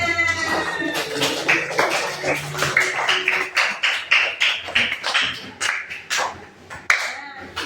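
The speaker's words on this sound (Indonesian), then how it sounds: "Oke, tepuk tangan." A classroom of children clap their hands in a steady run of sharp, fairly close claps, with a teacher's voice and some high-pitched chatter over the start.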